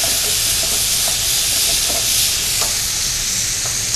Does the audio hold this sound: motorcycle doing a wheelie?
no